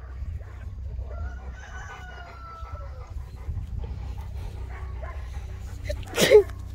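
A quiet room with faint background noise, then one short, sharp sneeze from a dog near the end.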